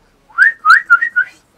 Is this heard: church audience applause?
no